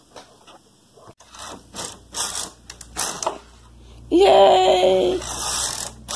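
A Toyota 858 knitting machine carriage on a 950 bed, set to stitch size 10, gives a loud mechanical rattle and whir for about a second. Scattered clicks come before it, and a brief cheer is heard.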